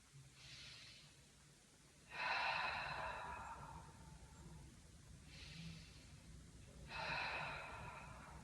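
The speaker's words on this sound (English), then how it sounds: "Take 3 deep breaths here." Deep breathing during a hip stretch: slow, close breaths, soft inhales alternating with louder rushing exhales, two full cycles, quiet and alone.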